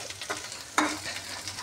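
Leafy greens (shak) frying in a pan, a soft sizzle with a few sharp stirring scrapes, one louder clatter midway, close and quiet.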